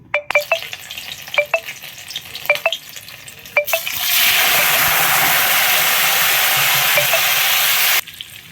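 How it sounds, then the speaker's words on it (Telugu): Boiled chicken for pachadi dropped into hot oil, a sudden loud sustained sizzle lasting about four seconds after a few sharp clinks of utensils, then cutting off abruptly. "ఇప్పుడు ఫ్రై చేయబోతున్నా చికెన్."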